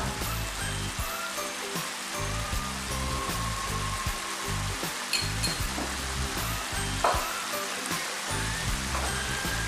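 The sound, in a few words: anchovy sizzling and melting in a pan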